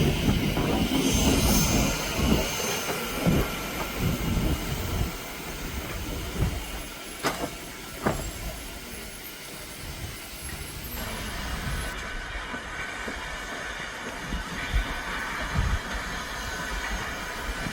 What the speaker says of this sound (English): Departure, and the locomotive takes on the Krøderbanen.